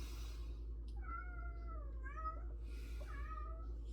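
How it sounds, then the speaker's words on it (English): A cat meows twice in close succession, drawn-out and somewhat strained, fairly near against a steady low hum. "Why are you meowing?"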